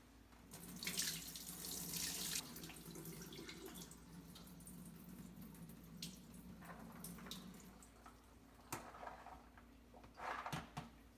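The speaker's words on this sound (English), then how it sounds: "So I'm gonna go ahead and strain these beans." Tap water runs steadily into a kitchen sink as canned black beans are strained and rinsed, with a continuous close splash, some drips, and a few clunks near the end.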